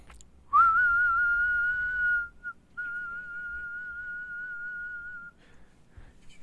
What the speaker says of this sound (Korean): 휘파람이 이렇게 소리가 나가면서 그 예쁜 음색만 전달이 돼야 되는데